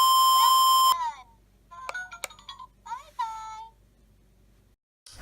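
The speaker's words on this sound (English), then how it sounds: "Please leave your message after the beep." An answering machine gives a single steady electronic beep lasting about a second, followed by scattered short chirpy tones and then quiet.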